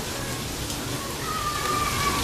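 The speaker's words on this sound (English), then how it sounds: "it's actually a downpour from the roof, but it's falling pretty hard." Heavy rain pours down hard off a roof in a dense, continuous rush of water that stays loud and steady throughout.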